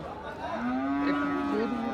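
A bull at a cattle market lets out one close, loud, drawn-out low moo that rises and holds, with faint crowd murmur behind it.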